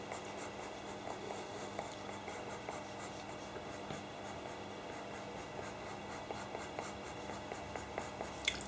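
A sharp pastel pencil works hair detail on paper in steady, faint scratchy strokes with small taps, alone and close.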